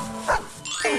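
A cartoon plant with claws barks in a SpongeBob scene: one short, sharp bark bursts out, followed by a second yelping bark a moment later, close and clear with no talk.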